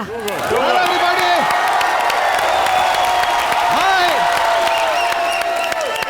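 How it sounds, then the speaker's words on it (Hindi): Loud studio audience applause and cheering at a comedy stage show, with whoops over steady clapping while an upbeat musical sting with sweeping tones plays throughout. "बार बार देखो कि टीम के लिए जोरदार तालियां हो जाएं।"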